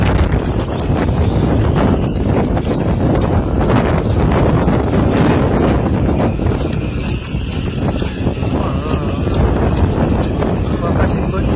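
Strong wind gusts buffeting hard during a harbour storm, loud continuous rushing and microphone buffeting throughout, with someone talking under it.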